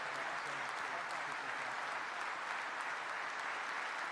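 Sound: audience applause for a new army sergeant

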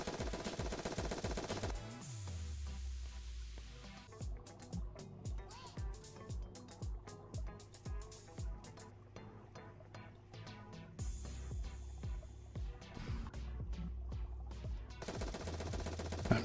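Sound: gunfire from a gun in VRChat game

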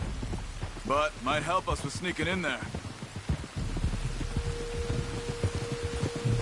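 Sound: rain in video game Red Dead Redemption 2

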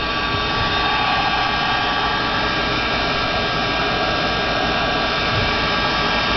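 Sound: heat gun drying a rock paper weight

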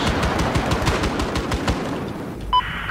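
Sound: gunfire in the video game Battlefield 4

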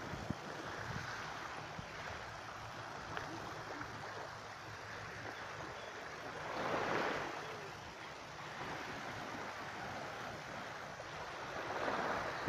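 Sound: beach surf at Hilton hotel, Hua Hin, Thailand

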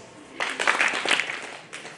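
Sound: audience clapping once together

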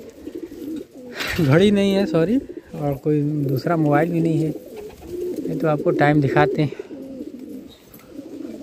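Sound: pigeons cooing

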